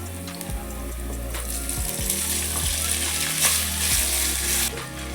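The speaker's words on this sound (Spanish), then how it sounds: "Ahora voy a incorporar el bacon en este punto." Bacon sizzling in a pan with garlic and oil, a constant bright frying hiss with low rhythmic thumps and scraping as it is stirred, close and steady with no talking.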